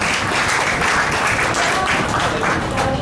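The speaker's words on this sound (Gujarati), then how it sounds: "જોરદાર તાળીઓ." Audience applause at a 2018 annual day function: dense, steady clapping from a large crowd fills the hall, loud and continuous throughout.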